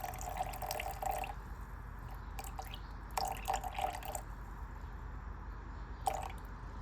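About 65 grams of water trickles and splashes into a gluten-free sourdough starter in short bursts with pauses between, close by, alongside faint drips and wet sounds.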